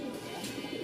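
Pigeons cooing nearby, a paired male among breeding pigeons, with a steady low murmuring call over a continuous hum and no pause across the short stretch.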